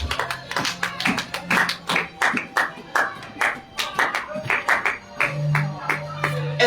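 A church congregation claps in praise during worship, with dense, rhythmic, close hand claps in a steady beat and voices singing or calling out underneath.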